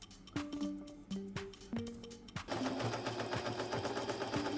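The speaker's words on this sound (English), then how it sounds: "do decorative stitch in this seam." A sewing machine stitches a decorative seam across a patchwork blanket, running in short bursts with brief pauses at first, then a steady continuous whir close by.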